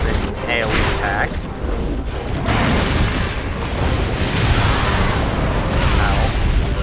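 Glavenus unleashing its Rupture Blade area attack in Monster Hunter Stories 2, a dense, sustained rumble of booming blasts and bursts filling the whole stretch, with game music layered in.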